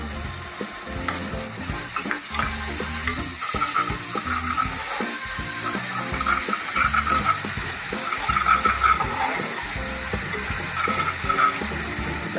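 Yogurt being stirred into a tomato masala frying in a pan for egg biryani: a constant loud sizzle with rhythmic scraping and stirring strokes close up, going on steadily without any voices.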